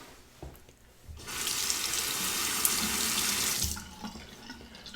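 Water runs from a tap over a razor being rinsed, a steady broadband rush that starts abruptly after a quiet moment, holds for under three seconds, then cuts off, leaving faint drips and small handling sounds.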